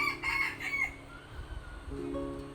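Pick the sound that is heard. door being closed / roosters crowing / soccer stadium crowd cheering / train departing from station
roosters crowing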